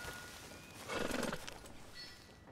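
A horse whinnies and snorts in Red Dead Redemption 2, a short burst near the middle of the moment over a low hum of game ambience, with faint hoofbeats.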